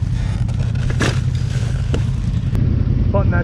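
A Can-Am Outlander 850 HighLifter ATV engine idles with a steady, loud low rumble close by, with a few light clatters and scrapes over the top.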